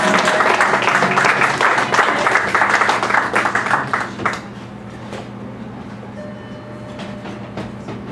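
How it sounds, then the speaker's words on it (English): A coffee house concert audience applauds loudly and densely for about four seconds, then the clapping thins out to scattered claps and room noise. "give Leslie one more round of applause"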